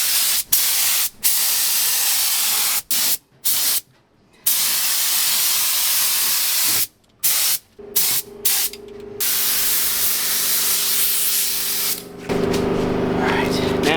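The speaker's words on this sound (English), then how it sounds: "now we're gonna spray our adhesive on the driver and passenger front floor pan" A spray can of adhesive hisses in repeated bursts onto a 1973 VW Beetle's front floor pan, short and long blasts separated by brief pauses, loud and close.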